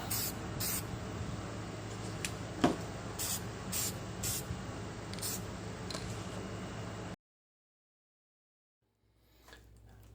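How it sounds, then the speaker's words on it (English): Flat black spray paint laid down as a base coat on a Gaslands toy car outdoors, heard as a steady close hiss in short repeated bursts for about seven seconds, then silence and faint rustling. "I base coated it with a flat black spray paint."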